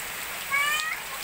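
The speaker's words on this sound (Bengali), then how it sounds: "দেখো বৃষ্টি হচ্ছে" Heavy storm rain falls steadily on a rural homestead where cattle stand tied outside, a constant even hiss with a brief high, meow-like call rising over it midway.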